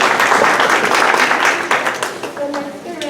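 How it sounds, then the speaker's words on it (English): A community meeting audience in Salinas, California applauds: dense, loud clapping from many hands that tapers off near the end, with a voice faintly audible. "Let's give them one more round of applause."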